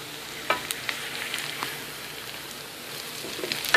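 Onion frying in about two teaspoons of oil in a frying pan, a soft continuous sizzle with scattered small pops and crackles, close and fairly quiet.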